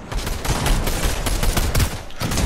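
Rapid gunfire from the Fortnite video game rattles continuously in dense, loud bursts for a couple of seconds, with no talk over it.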